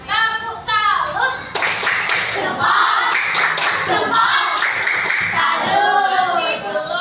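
Schoolchildren in a primary school classroom do a rhythmic patterned clap together while chanting loudly, their voices mixed in with the bursts of hand claps.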